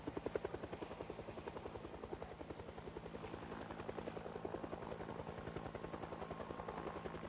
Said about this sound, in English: right now with the helicopter, we really don't want to go anywhere near town